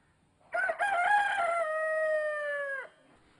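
A rooster crows once, loud and close, a single clear cock-a-doodle-doo of about two seconds with a long held final note, alone with no talk.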